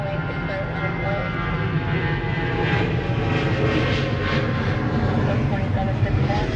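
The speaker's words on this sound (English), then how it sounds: "Next takeoff, American Airlines 1292 flying to Nashville, Tennessee, a 737-800." An American Airlines Boeing 737-800 jet taking off from LAX, heard as a loud, steady broadband engine roar throughout, with voices talking over it.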